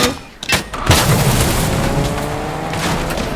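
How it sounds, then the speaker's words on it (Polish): Gunfire in the video game Fortnite, aimed at the player, comes as a few sharp booming shots. A loud, sustained noisy rumble of game audio follows. "O, coś do mnie strzela"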